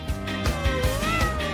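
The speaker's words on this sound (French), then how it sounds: "Vous avez un chat." A cat meows in a drawn-out, wavering call, close and clear, with a few soft rhythmic thumps beneath.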